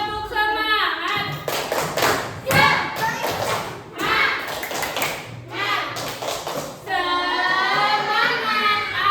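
Schoolchildren in a third-grade class do a rhythmic spirit clap, with a run of loud, quick group claps and thumps punctuated by children's voices chanting along, and a teacher speaks before and after.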